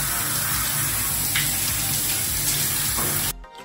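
A shower runs steadily with a dense, even hiss of falling water in a bathroom, close and loud, before cutting off abruptly near the end.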